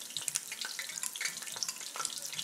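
Hot oil bubbles and crackles in a skillet while onion rings fry, a quiet steady fizz dotted with sharp pops.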